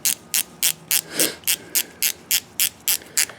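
A ratchet wrench tightening the bolt on a Subaru EJ-series single-cam camshaft position sensor: about a dozen crisp, evenly spaced clicks, close and loud, with no talk.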